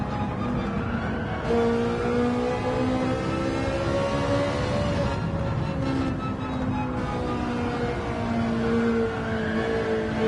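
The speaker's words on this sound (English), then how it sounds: "That squealing means that I'm sliding slightly." Race car in a racing video game at Autopolis, steady engine drone with a thin, sustained squealing tone from tyres sliding through a corner, rising and falling in pitch and holding across most of the stretch.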